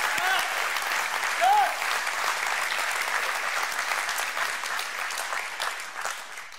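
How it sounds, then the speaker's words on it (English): A church congregation applauds together in a large room, a sustained wash of clapping that holds steady and then gradually tapers off. "Let's give God just a big round of applause for that."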